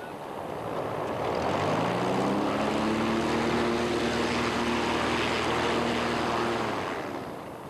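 The airship Sky Dragon comes in to land on its maiden flight, its propellers and engines producing a loud, continuous droning roar that rises slightly in pitch and holds steady throughout.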